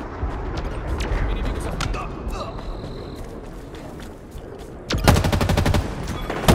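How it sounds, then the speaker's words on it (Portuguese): Rapid automatic gunfire in Halo Infinite multiplayer, dense crackling bursts and a sharp run of evenly spaced shots near the end, loud and close over game ambience, with a player's voice talking at times. "Tô tomando tiro!"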